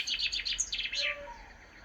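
A chaffinch sings a quick descending series of bright chirps ending in a flourish, heard fairly clearly in a garden setting.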